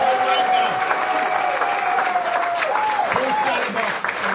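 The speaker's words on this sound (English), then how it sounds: "applause to our wonderful band" An audience at a yacht club anniversary celebration applauds a band, steady dense clapping with crowd murmur and a few voices and whistles, easing off at the very end.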